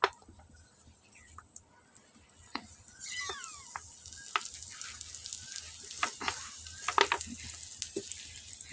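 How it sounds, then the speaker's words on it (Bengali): Gourd-peel paste with mustard oil stirred by a spatula in a pan, quiet at first, then a low sizzle with scattered scrapes and clicks building in the second half. "দিয়ে আমি একটু খুন্তির সাহায্যে ঘুটে নেড়ে চেড়ে আমি নামাবো"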